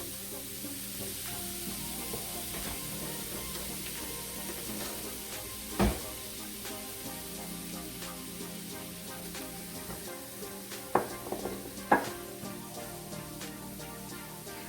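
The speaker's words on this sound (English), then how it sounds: "we're going to saute the one small onion" A small onion sautéing in about a teaspoon of olive oil in a pan over low to medium heat gives a steady soft sizzle, with a few louder clinks and stirring knocks near the middle and end.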